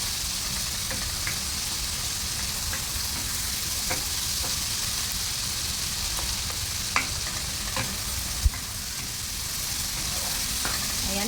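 Food mixture being stirred in a hot pan with chicken about to go in, a constant close sizzle and frying hiss broken by faint scraping taps of a utensil against the pan.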